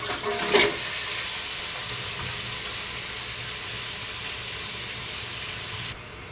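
Kabebe shellfish hit a hot pan and sizzle with a brief loud burst, then settle into a steady, even frying hiss that runs on close and alone, with no talking.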